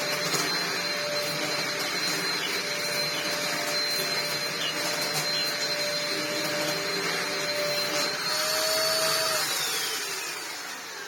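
Rebuilt Dyson DC03 upright vacuum cleaner running steadily with a loud whine and a faint vibrating rattle, the pitch dipping as it winds down near the end.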